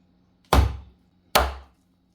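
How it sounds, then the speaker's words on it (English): Two sharp, loud knife chops land on Jamaican-style grilled jerk chicken, each a crisp thwack on a cutting board followed by a short decay, spaced under a second apart with no talk. "I'm going to chop it now so you can see the quality of it."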